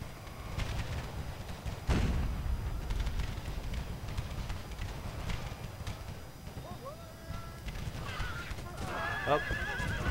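Cavalry horses gallop and neigh in a large Empire: Total War American Civil War battle, hooves drumming steadily under a dense din, with whinnies rising toward the end.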